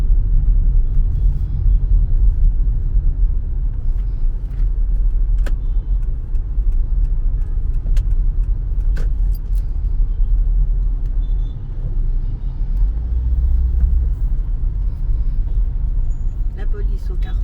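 Heavy traffic with many motorcycles on the international Cotonou–Lomé road: a loud, continuous engine rumble from close-by vehicles, with a few sharp clicks and no other sounds standing out.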